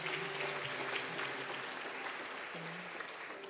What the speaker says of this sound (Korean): 한 번 더 박수 보내주시고요.